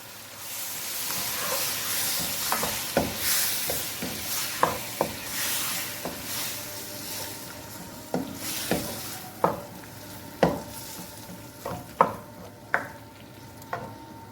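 Chopped tomatoes fry and sizzle in a pan under a steady hiss, with a run of sharp scraping clicks as a utensil stirs and presses them. The clicks come close and grow louder toward the end. No one speaks.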